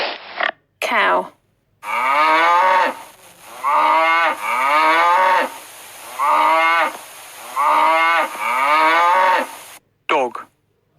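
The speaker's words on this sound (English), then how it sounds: "Cow." A cow moos repeatedly, about five long, loud lowing calls separated by short pauses, close and clear with no other sounds.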